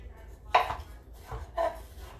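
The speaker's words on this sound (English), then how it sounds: "we're just going to chop this up in manageable bite-sized pieces and throw it in our bowl" Watermelon and cucumber being chopped into small cubes, with three distinct knife chops on a cutting board at close range, separated by short quiet gaps.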